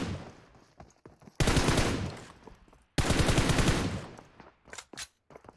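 Two long, loud bursts of rapid machine-gun fire from the PUBG Mobile video game, with a few sharper single shots trailing off at the end.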